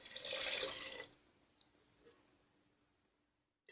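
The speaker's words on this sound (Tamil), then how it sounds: "இப்போது நம்ம எடுத்து வச்சுருக்கிற தண்ணி ஊற்றிக்கலாம்" Water splashes and pours steadily into a cooking pot of vegetable biryani for about a second, then stops, followed by a few faint drips and quiet.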